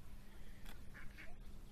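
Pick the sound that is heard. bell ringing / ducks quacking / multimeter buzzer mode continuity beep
ducks quacking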